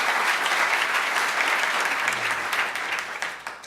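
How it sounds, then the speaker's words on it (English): An audience claps a sustained round of applause at a speech event on career and technical education. The clapping holds full and even, then thins out and fades near the end. "let's give Jacob another round of applause"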